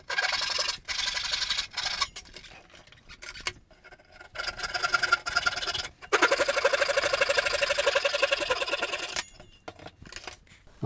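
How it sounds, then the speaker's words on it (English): A handsaw cuts through the wooden tenon of an ES-335-style guitar neck, with bursts of raspy back-and-forth strokes, pauses between runs and a longer steady stretch of sawing near the end. "just going to take this off with a handsaw."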